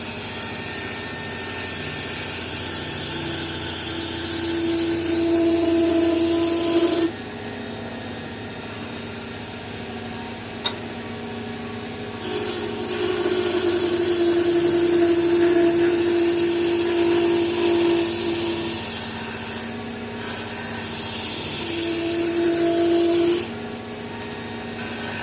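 A Harbor Freight mini lathe, capable of 3,200 RPM, runs with a loud high motor whine and steady tonal hum, stopping and restarting several times with short quieter gaps between runs.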